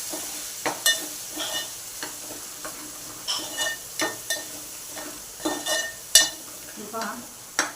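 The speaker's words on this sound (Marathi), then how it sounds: "हळद आणि चवीनुसार मीठ हे परतून घेऊया" Chili powder, turmeric and salt sautéing in a pan for a spicy eel fish curry: a steady low sizzle with repeated scraping spatula strokes at an irregular rhythm, close by.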